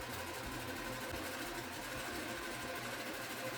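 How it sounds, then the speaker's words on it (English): A sewing machine running continuously while stitching the center seam of an apron, a steady, dense mechanical whir at even speed throughout, close and fairly loud with no talking. "Now we are going to sew the center seam."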